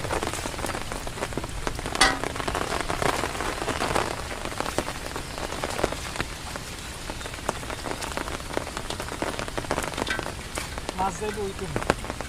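Steady rain falls on surfaces in a village during the rainy season, a dense constant patter with scattered louder drops throughout, close and enveloping, with faint voices in the background.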